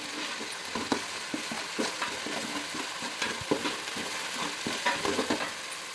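Ginger garlic paste sautéing in a pan for vermicelli kichadi, a steady close sizzle broken by repeated scraping stirs of a spatula, with no talking.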